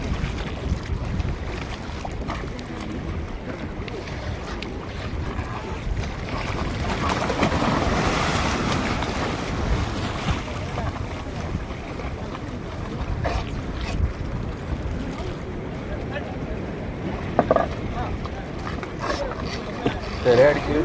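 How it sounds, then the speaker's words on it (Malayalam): A boat rocks at a floating bridge in Varkala, with water sloshing and lapping against the hull, gusts of wind buffeting the microphone, and occasional voices and knocks nearby. "ബോട്ട് അങ്ങോട്ടും ഇങ്ങോട്ടും ആടി"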